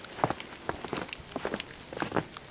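Sleet mixed with rain falls onto snow during a January winter storm in Pennsylvania, making faint, scattered ticks and soft patters close by with no voices.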